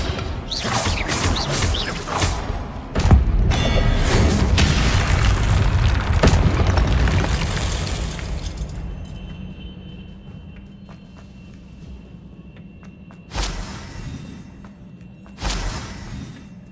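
Spells cast in the Hogwarts Legacy video game: a burst of loud booming magical impacts and crashes for several seconds, then a quieter stretch with a faint sustained hum, followed by two more sharp blasts near the end.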